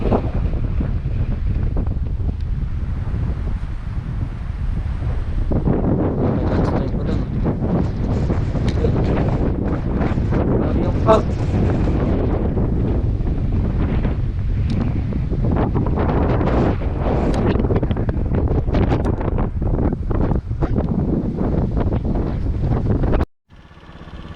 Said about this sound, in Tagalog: Medyo malakas pa yung hangin.